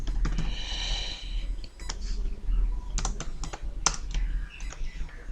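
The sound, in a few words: typing code on a computer keyboard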